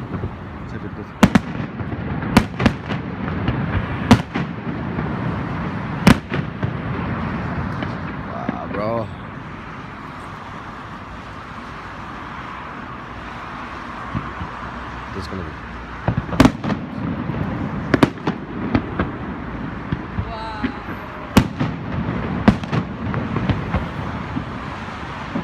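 Fireworks rockets bursting at Tivoli, a series of sharp loud bangs at irregular intervals over a continuous crowd murmur and crackling, with people talking throughout.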